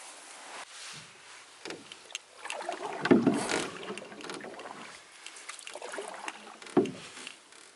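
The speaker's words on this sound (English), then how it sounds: "Good for a little paddle while it's calm and sunny." Solo canoe paddling on a calm lake on a sunny morning in Algonquin Park, with quiet repeated paddle strokes and soft water swishes and drips, gentle and intermittent against near silence.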